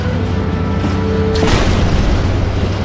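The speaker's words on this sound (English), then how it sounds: "Did you hear that explosion?" A single deep explosion in Minecraft, a loud booming burst midway that rolls into a rumbling tail over steady background sound.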